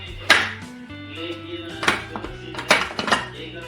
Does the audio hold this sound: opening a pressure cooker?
yes